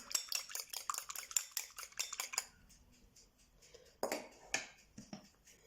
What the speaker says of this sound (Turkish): Ayırdığımız yumurtamızın üzerine iyice karıştırıyorum.